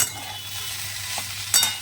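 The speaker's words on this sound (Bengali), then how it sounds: "উচ্ছেটা হালকা ভেজে নিয়ে আলুটা দিয়ে দিয়েছি" Sliced bitter gourd and potato frying together in a pan: a steady, close hiss of sizzling oil runs throughout, broken near the end by a brief sharp clink and scrape of a spatula against the pan.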